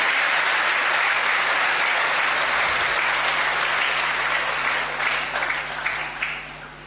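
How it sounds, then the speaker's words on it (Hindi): Loud, dense applause from an audience at a Jain religious gathering, sustained for several seconds before thinning out toward the end. "एक बार जोरदार तालियां इस व्यक्ति के लिए होनी चाहिए"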